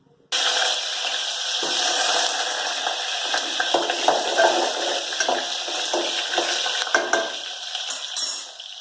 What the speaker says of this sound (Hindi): सबसे पहले हम बटाटों को तेल में तल के वापस निकाल लेंगे